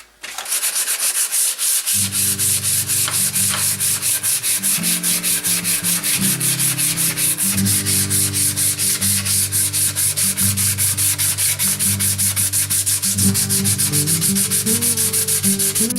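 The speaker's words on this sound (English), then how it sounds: "I'm just sanding it down 3 or 4 steps through 80 down to about 400 for sandpaper grit" Rapid, continuous back-and-forth rasping of sandpaper on a wooden guitar neck, loud and close, with a low humming tone from equipment running underneath.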